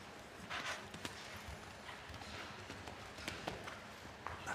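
Faint, irregular hoofbeats on soft arena ground, a horse moving at an easy pace at a CSI5* World Cup show jumping event, set against a low, steady background murmur.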